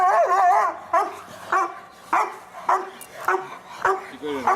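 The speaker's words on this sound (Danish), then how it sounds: "Det er en farlig hund." A dog barks repeatedly in a steady rhythm, about seven or eight sharp, close barks with whimpering yips between them.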